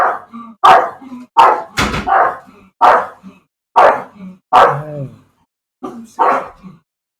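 Dogs bark loudly and close in a rapid series of sharp yips and woofs, with short pauses between bursts and a brief exclamation from a person.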